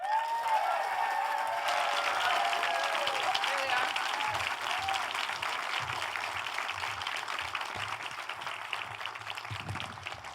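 Studio audience applause welcoming Olivia Wilde and Lisa Kudrow onto a talk show stage, a loud sustained wash of clapping and cheering that runs the whole stretch, with whoops and voices over it.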